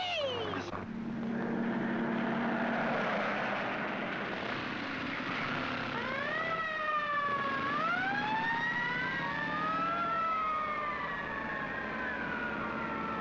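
A police motorcycle siren wails in rising and falling sweeps, arriving after a low engine drone and growing louder as it approaches over several seconds.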